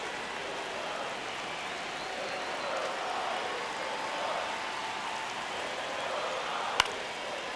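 Steady, dense baseball stadium crowd roar from MLB The Show 26 during a tense ninth inning of a Dodgers versus Giants game, a constant broad wash of cheering with one sharp click near the end.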